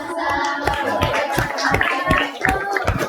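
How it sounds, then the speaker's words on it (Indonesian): A small audience at a university teacher-training presentation claps in a loose, uneven rhythm of distinct hand claps, close and moderately loud, with murmured voices underneath. "Kita kasih tepuk tangan."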